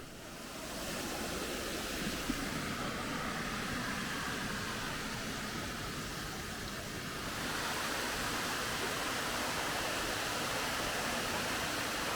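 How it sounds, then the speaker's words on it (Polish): Jodnam waterfall in a Thai forest roars as a steady, loud broadband rush of falling water, continuous and unbroken with no voices. "wodospad Jodnam"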